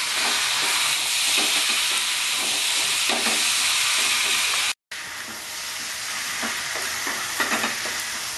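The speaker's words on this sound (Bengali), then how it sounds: "মশলা দিয়ে এঁচোড় আর আলু দিয়ে অনেকক্ষণ ধরে কষতে হবে" Raw jackfruit and potato stir-fry with spices in a pan, sizzling loudly and steadily up close while a spatula scrapes in uneven strokes, cut by a brief silent gap midway, with no talk.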